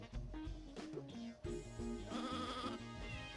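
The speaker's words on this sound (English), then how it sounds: "Sheep on treadmill." Sheep bleating in the video game Sheep Raider, rising over a busy game music bed with a few short, clear calls close up.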